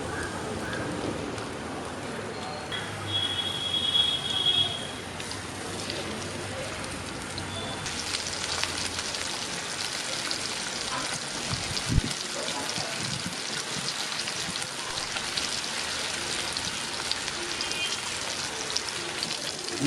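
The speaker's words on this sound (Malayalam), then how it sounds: "അതിനുശേഷം നമുക്ക് പുരട്ടി വെച്ചിരിക്കുന്ന മീൻ ഫ്രൈ ചെയ്തെടുക്കാവുന്നതാണ്." Marinated fish fries in coconut oil with shallots, giving a continuous soft crackling hiss like light rain that holds steady, with a few brief clinks and a faint voice in places.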